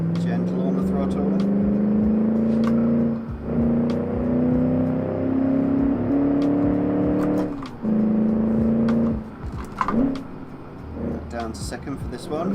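A 1956 Gasmea car engine in a racing game (Automation) holds second gear on a valley time-trial course, droning steadily with a rising pitch under light throttle, briefly dipping at lifts before pulling again, loud and close.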